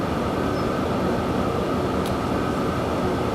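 An electric train runs in the Transport Fever game, a steady continuous rumble and hum with even rolling noise throughout and no talk.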